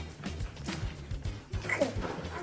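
A pet dog gives a few short, close yips and barks in a quick irregular burst, loud and alone over a low background hum.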